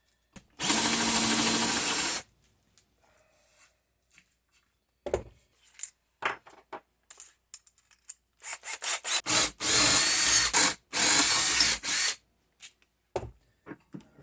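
A power drill countersinks holes in wood for mounting a quick-release woodworking vise, with two long, loud, close bursts of whirring cut around scattered handling knocks and a quick series of short drill pulses.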